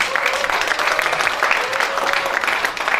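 Steady applause from an audience greeting the Gangnam District Council chair as he comes up to give a congratulatory address at a formal event, with dense clapping filling the room throughout and no voices heard.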